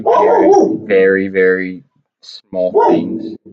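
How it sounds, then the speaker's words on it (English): A dog barks and yips in short bursts between and over a man's speech, fairly close and loud. "Sorry about my dog."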